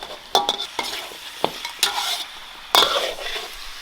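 Scallion, ginger and garlic stir-fried in a wok while braising pork trotters, a soft sizzle under sharp scraping clacks of a spatula against the pan, irregular and close.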